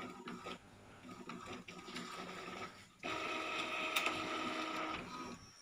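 An Epson L3110 inkjet printer runs a print job, its mechanism whirring and clicking steadily with a carriage rhythm, growing louder and busier partway through, close by with no talking.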